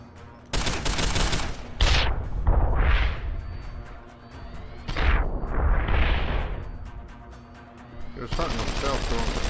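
Grenade blasts and gunfire in the game Deus Ex: Human Revolution, with several heavy booming explosions and whooshing debris over rapid shots, loud and close, with brief voices in between.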